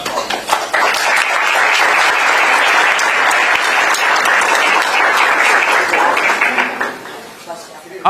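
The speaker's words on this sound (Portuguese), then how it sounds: "Aplausos, não é normal, né, os jornalistas" Journalists applaud at a Flamengo press conference at Maracanã: loud, sustained clapping for about seven seconds, then tapering off, with a voice faintly mixed in.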